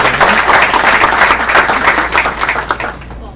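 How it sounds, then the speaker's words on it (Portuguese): Loud, dense applause from an audience at a university history graduate program session, honoring a professor, a sustained wash of clapping that thins and fades out in the last moment. "eu quero pedir uma salva de palmas"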